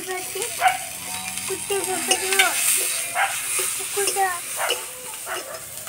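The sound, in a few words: chopped tomato and green chilli frying in a pan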